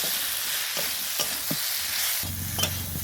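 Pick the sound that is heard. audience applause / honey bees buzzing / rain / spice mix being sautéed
spice mix being sautéed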